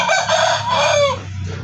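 A native rooster crows once, loud and close, from a coop behind the house where mixed native chickens are kept.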